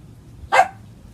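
Small dog named Tootie gives a single short, sharp bark indoors at moderate distance over a low room hum.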